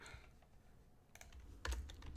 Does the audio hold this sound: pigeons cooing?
no